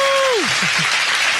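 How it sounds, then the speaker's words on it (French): A studio audience breaks into a brief burst of dense clapping for a guest, close and loud, while a voice's falling tone glides down over the first half second. "main d'applaudissements pour Jean-David quand même."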